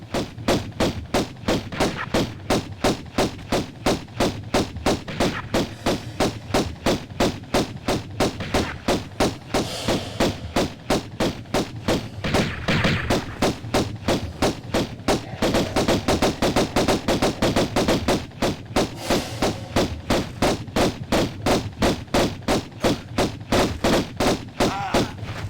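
Magnum pistols firing in the 1996 video game Tomb Raider: a long, rapid, relentless stream of gunshots in an even rhythm like machine-gun fire, loud and continuous throughout, with occasional heavier bursts mixed in and no speech.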